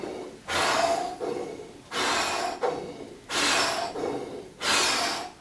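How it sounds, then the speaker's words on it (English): Four quick, deep breaths during a breathing exercise, each a loud rush of air through the nose or mouth, evenly spaced and close to the microphone, with no talking. "I do 4 in, 4 out. And then I'll do 4 quick breaths."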